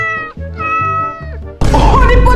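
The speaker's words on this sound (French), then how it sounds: "Oh les potes, attendez, mais je me mets à miauler là." A player character in the Poppy Playtime video game meows like a cat, several drawn-out tonal meows in a row, followed by a sudden loud, noisy burst of game sound.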